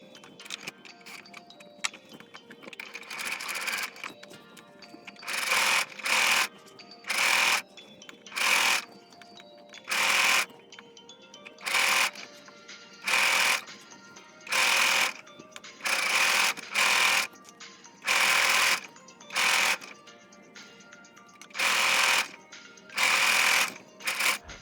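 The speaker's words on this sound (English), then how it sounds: "So let's head to sewing machine." Sewing machine stitching fabric for a reversible French beret, running in about a dozen short mechanical bursts separated by pauses, loud and close with no talking.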